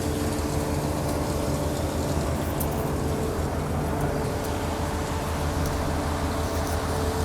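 A combine harvester's engine runs on a farm visit in Poland, a steady, loud, close diesel drone with a constant low hum and no speech.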